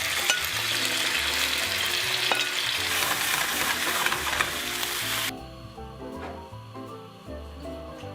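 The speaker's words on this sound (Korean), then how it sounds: "저는 옵션으로 버섯을 좀 남겨서 한 번 더 볶았어요." Leftover mushrooms stir-fry in a pan for mushroom risotto, giving a loud, steady sizzle with scraping stir sounds that drops to a softer crackle partway through, with no talk.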